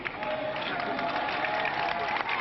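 Moderate applause from a crowd outside Matignon as Édouard Balladur's car departs, steady clapping at a distance with a faint murmur underneath.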